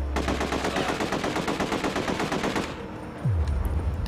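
Rapid automatic gunfire from The Getaway on PS2 rattles in a loud, continuous burst for about two and a half seconds, then stops, leaving a lower game rumble behind.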